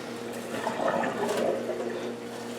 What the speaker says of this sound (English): I'm just trying to get the last of the curd into the colander.